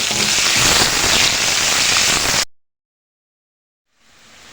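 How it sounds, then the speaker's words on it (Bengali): Chopped onions fry in hot oil with whole spices and bay leaves, a loud, dense, close sizzle and crackle that runs steadily and then cuts out, returning faintly afterward. "গোটা মশলা, তেজপাতা, পেঁয়াজ কুচানো, পেঁয়াজটাকে একটু হালকা ভেজে নিব।"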